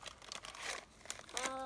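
Dry crinkling of a plastic bag of sour sweets in irregular bursts, close by, with a faint voice briefly audible near the end.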